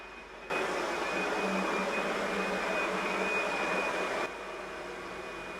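A Karcher FP303 floor polisher polishing an indoor floor gives a steady close whirring hum with a faint high whine, then drops to a quieter level near the end.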